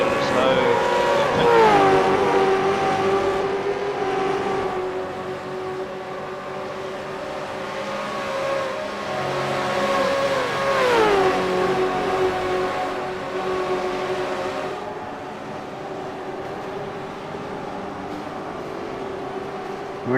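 Engine note of a V8 race car lapping Bathurst in a racing simulation game: a steady, loud drone with pronounced pitch sweeps as the revs fall and climb through gear changes, near the start and again about ten seconds in.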